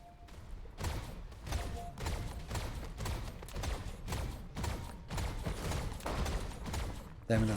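A turret barrage fires in Dyson Sphere Program, a steady run of rapid thumping shots with a few brief tones, moderately loud and continuous for several seconds.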